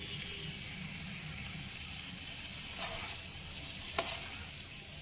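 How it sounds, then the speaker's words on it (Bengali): Ground spices including chilli powder and coriander powder frying in a pan for mutton haleem, a soft continuous sizzle with low stirring, broken by two brief sharp clinks near the end. "সমস্ত মশলা দেওয়ার পর আমি প্রায় 2 মিনিট মতো কষিয়ে নিয়েছি"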